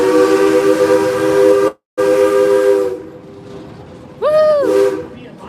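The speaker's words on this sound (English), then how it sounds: "that warning whistle that you just heard" A train on a Colorado rail line heading toward Denver sounds a loud, close steam-style warning whistle in long sustained chords, broken by a short gap. A later blast slides in pitch and then fades.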